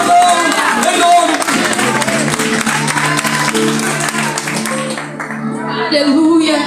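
A church congregation applauds and cheers during a worship service, dense and continuous clapping and crowd noise that swells and stays loud throughout, with music and voices underneath.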